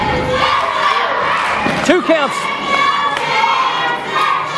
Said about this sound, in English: The crowd firmly in the corner of Chance Prophet.